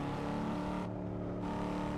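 A car engine in a driving video game hums and revs steadily at moderate volume, a continuous tonal drone with layered harmonics and no talk over it.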